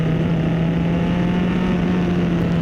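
A Formula 4 race car engine holds a loud, steady high-revving drone at close range, a strong sustained tone with no pauses.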